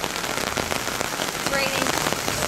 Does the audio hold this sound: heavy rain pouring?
yes